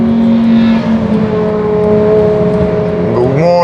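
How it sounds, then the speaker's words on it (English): Fast cars rush past on the Nordschleife with loud engine notes at high revs, one car sweeping through with a sharp pitch change near the end, heard from the trackside. "Fast cars coming."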